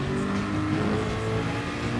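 Gr.1 race car in GT Sport slowing hard through a chicane after a straight at about 355 km/h, a steady close engine drone with shifting pitch, no talk.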